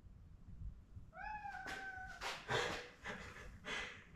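A house cat meows nearby: two rising, drawn-out cries that overlap, then several shorter, throaty mews and snorts. The sounds are quiet and come in uneven bursts, with no talking.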